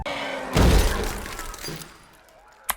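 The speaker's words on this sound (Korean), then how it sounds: "대장 좀비가 이 판을 부수는 장면에서는 유리 깨지는 소리가 납니다" In a film scene from I Am Legend, an acrylic panel is smashed by the lead zombie with a loud glass-shattering crash. Falling debris trails off, and a sharp knock follows near the end.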